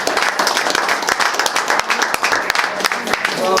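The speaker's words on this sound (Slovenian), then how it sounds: "da ima en aplavz za punce." An audience at a sports hall-of-fame ceremony breaks into applause, a dense, sustained burst of many hands clapping, loud and continuous, with a crowd murmur underneath.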